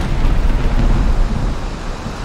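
Stormy weather in the video game Valheim, a steady low rumbling roar of wind and rain with thunder-like depth, continuous and fairly loud with no talking.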